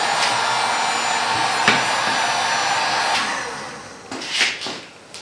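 A hair dryer or heat gun blows steady, close and loud hot air to dry an ATV wheel beadlock ring, with a few knocks, then drops in level near the end.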